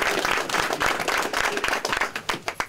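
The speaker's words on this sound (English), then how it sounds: "Give yourself a round of applause." A football team applauds itself in a brief burst of hand clapping, dense at first and then thinning to a few scattered claps, close by.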